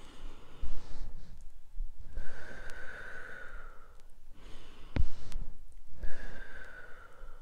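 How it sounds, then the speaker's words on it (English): A person draws several deep breaths, each long inhale and exhale clearly audible and close, with slow pauses between them. "So you're breathing in."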